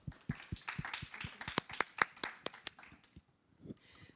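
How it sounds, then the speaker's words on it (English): A small conference audience claps for panelists at a multi-chain blockchain panel with Connext, sparse distinct hand claps close by that thin out toward the end. "So big applause for our panelists,"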